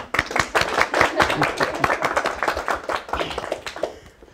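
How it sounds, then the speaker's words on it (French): Applause from a corporate webinar audience: a short burst of many hands clapping, fairly close and steady, tapering off over about four seconds. "Je demande des applaudissements."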